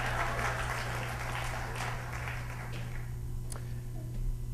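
A lecture audience applauds, a continuous spread of clapping that fills the room and tapers off toward the end.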